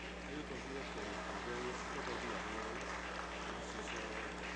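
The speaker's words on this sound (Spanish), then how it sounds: "Un aplauso." Applause from lawmakers in a congressional plenary chamber, a steady wash of clapping held at an even level throughout, with murmuring voices mixed in.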